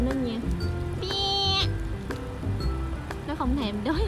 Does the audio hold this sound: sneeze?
no